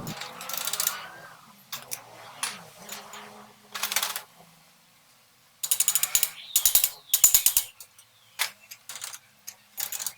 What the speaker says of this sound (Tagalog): Eto na yung bolt na malaki, malapit na matanggal.